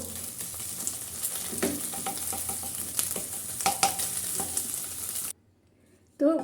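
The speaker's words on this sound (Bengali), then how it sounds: "ডিমটা আমি ভেজে নেব তো ঝুড়ি ভাজা করে দেবো" An egg frying in a pan and being broken up into scrambled bits, with a constant sizzle and repeated utensil scrapes and clinks, then a sudden pause before the sizzle briefly resumes.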